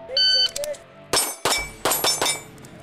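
Several sharp gunshots ring out at a Steel Challenge shooting competition, each followed closely by a metallic clang of a hit on a steel target, preceded by short electronic beeps.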